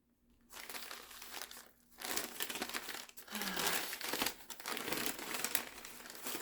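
Wrapping paper crinkles and rustles as a package is unwrapped, starting after a short silence and coming in close, loud bursts of crackling with brief pauses between them.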